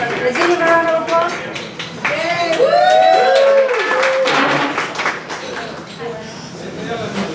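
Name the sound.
audience applause for a congressional candidate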